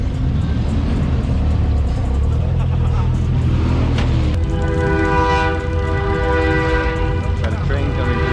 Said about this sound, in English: Got a train coming through.